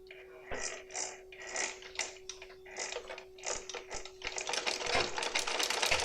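A simple domestic sewing machine stitching an embroidery design traced in yellow onto fabric, running in short mechanical bursts with pauses, then a steadier faster whir of needle clatter toward the end, close and moderately loud with no talking.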